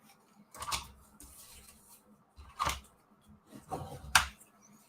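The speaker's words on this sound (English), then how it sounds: "So I'm going to trim this corner here at the bottom." Scissors trim the bottom corner of a paper page in a December Daily scrapbook album, three crisp snipping cuts spaced a couple of seconds apart, close and fairly quiet with no talking.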